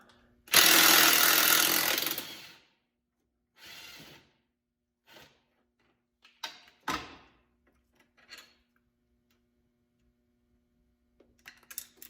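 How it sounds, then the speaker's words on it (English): A 14 mm socket and wrench work a bolt on a 2006 Suzuki LTZ400 ATV, heard as one long burst of ratcheting followed by several short clicks and metallic clinks in an otherwise quiet space. "Our 14 mil socket. And a 14 mil wrench."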